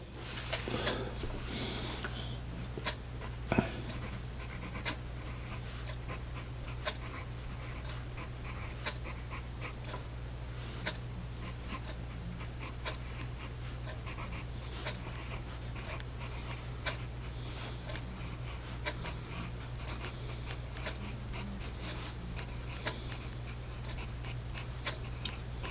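A freshly sharpened Doms Fusion pencil, an extra-dark Indian pencil, scratches steadily across paper, close and faint, with light strokes over a constant low hum and no talking.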